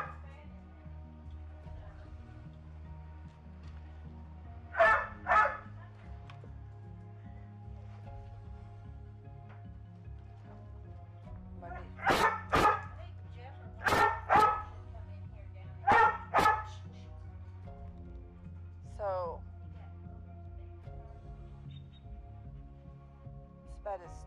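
Dogs barking in paired and clustered yips against a quiet indoor hum, a double bark early, then a run of sharp barks in close succession, fairly loud above the low background.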